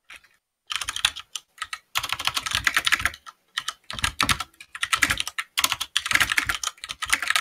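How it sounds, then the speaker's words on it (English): Rapid, furious typing on a computer keyboard, dense bursts of close clattering keystrokes broken by short pauses, loud and alone with no talk. "Now he's furiously typing something."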